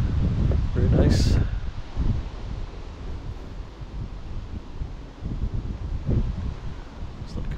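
Blustery wind buffets the microphone outdoors in a cemetery, roaring steadily with stronger gusts near the start and again toward the end, no other clear sounds above it.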